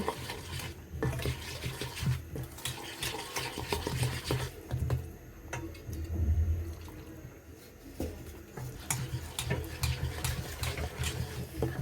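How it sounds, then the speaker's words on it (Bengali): Hand blender whirring through eggless chocolate cake batter made with chocolate biscuits and milk, a steady close mixing noise with wet sloshing and shifting pitch as the blades move through the thick mixture. "এভাবে আমরা ভালোভাবে হ্যান্ড ব্লেন্ডার সাথে ভালোভাবে মিশিয়ে নিব"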